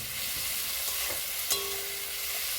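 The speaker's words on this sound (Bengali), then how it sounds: "তেল দিয়ে পরিমাণ মতো নুন দিয়ে পেঁয়াজ টমেটোটা একটু কষিয়ে নিলাম।" Onions and tomatoes sauté in oil with salt, giving a steady, close hiss with a sharp scrape of stirring near the middle and a few quieter clinks. No one speaks.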